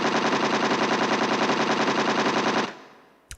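Rapid machine-gun fire from the Laura Bow adventure game The Dagger of Amon Ra blasts in a loud, dense burst for a couple of seconds, then cuts off into a fading tail and one last sharp click.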